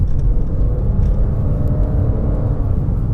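A 2017 Lexus RX 450h hybrid SUV pulling hard in Sport Plus mode, heard from inside the cabin as a steady, loud low engine rumble and road roar with a faint whirring tone throughout.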